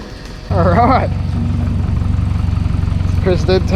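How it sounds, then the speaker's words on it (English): Nissan S14 drift car engine, which has trouble idling, catches and settles into a loud, steady, lumpy idle with a pulsing rumble, while someone talks over it at the start and near the end. "it has a bit of trouble idling"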